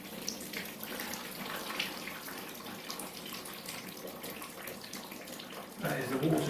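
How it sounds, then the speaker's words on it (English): Water draining from the bottom of a paper briquette press, a faint steady trickle and splash that swells near the end, with quiet talk over it. "as you can see, the fluid is draining from the bottom"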